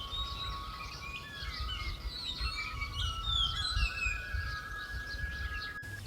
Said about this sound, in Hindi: और एक पक्षी तो ऐसा लगातार कई मिनट तक बोलता है।